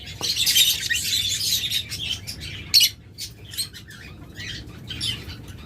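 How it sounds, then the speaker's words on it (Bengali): A pair of yellow-red lovebirds chirps and squawks up close in bursts of high, bright calls. Wing flaps and rustling come from the cage between calls. "প্রথমে একজোড়া রানিং লাভবার্ড দিয়ে শুরু করতেছি, একদম মাস্টার পেয়ার।"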